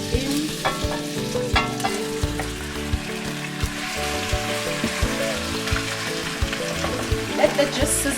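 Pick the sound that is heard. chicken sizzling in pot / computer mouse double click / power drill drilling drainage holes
chicken sizzling in pot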